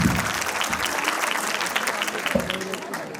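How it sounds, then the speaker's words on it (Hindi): Enthusiastic audience applause fills a hall at a school annual function, a dense, steady burst of many clapping hands with crowd noise, continuing loudly throughout. "शानदार प्रस्तुति के लिए एक बार फिर से जोरदार तालियां।"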